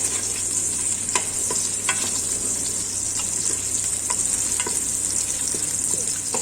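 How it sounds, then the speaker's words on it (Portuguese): Bacon sizzles in lard with garlic and bay leaf, a constant close crackle over a low steady hum, with occasional sharp stirring scrapes and no talking. "Agora aqui a gente vai esperar fritar esse bacon."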